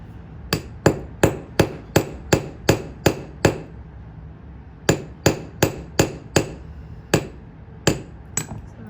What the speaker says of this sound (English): I'm just gonna forge a little paddle